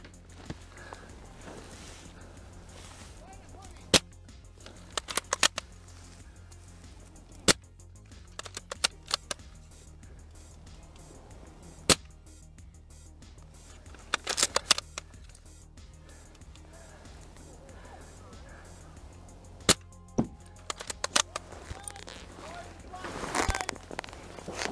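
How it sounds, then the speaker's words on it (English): Novritsch SSG96 airsoft sniper rifle firing during an airsoft game in a trench network, heard as sparse, sharp clicking pops at irregular intervals over a low, steady background. "pretty much every shot I make either flies up left or right and misses the"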